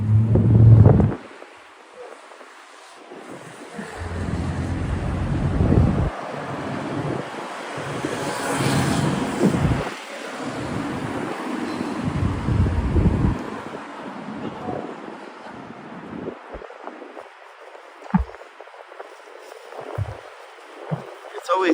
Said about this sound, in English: Sorry if it's the wind is a little bit annoying.